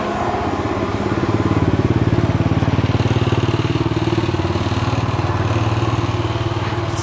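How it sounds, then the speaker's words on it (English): A scooter engine on a street in Bali drones loud and close without a break, with a steady, buzzing pulse and no voices. "Scooter noise."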